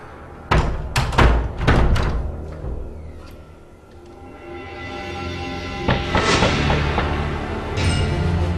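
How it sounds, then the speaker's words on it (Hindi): A house door is shut firmly, giving a burst of several heavy knocking thuds close by in the first seconds, followed by lower rumbling and a few softer bumps as things settle. "तुम दरवाज़ा बंद करो। ये अच्छी तरह से बंद करो।"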